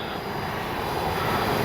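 An E-flite Piper Cherokee RC model airplane makes a speed-trial pass. Its motor gives a steady, loud whining drone that swells slightly as it nears, with no one speaking.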